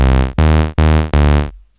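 Two sawtooth analog oscillators at equal level on a FAW Circle2 synth, building an electro bass, play four bright, buzzy sustained notes in a steady row with brief gaps and a clean cutoff.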